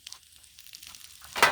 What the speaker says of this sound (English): I've got the griddle going here, medium low.